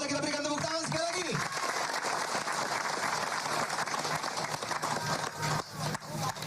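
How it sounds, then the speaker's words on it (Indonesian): An audience at a political campaign rally in Indonesia claps loudly and steadily, with a dense wave of applause that thins toward the end while a voice speaks at the start. "Boleh kita berikan tepuk tangan sekali lagi."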